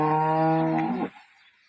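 A recently calved dairy cow gives one loud, close, sustained moo lasting about a second, which stops abruptly and leaves quiet barn ambience.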